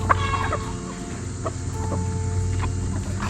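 Chickens clucking steadily in a farmyard coop setting, several birds close by with short overlapping calls over a continuous low rumble of background noise.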